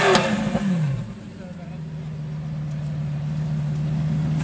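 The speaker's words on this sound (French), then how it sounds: "Ferrari. J'ai repéré une Scuderia au fond là-haut. Elle fait un sacré bruit hein." A Ferrari Scuderia with a stainless-steel exhaust at a supercar gathering, opening with a sharp rev that drops away and then settles into a steady, rumbling idle, loud and close.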